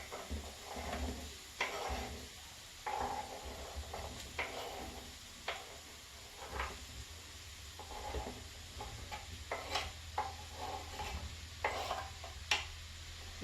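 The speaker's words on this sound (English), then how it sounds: "It's all frying up." Zucchini, peppers and onion sizzle softly in a pan, with a low steady frying hiss broken by frequent scrapes and taps of a utensil stirring the vegetables.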